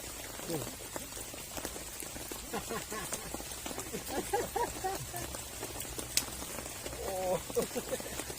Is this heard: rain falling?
yes